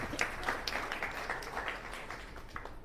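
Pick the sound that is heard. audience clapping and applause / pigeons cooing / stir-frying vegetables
audience clapping and applause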